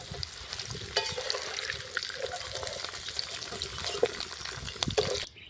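Vegetables for dudh shukto sizzle steadily in a pan as a spatula stirs and scrapes with occasional sharp clinks, a close, continuous frying hiss without any voices.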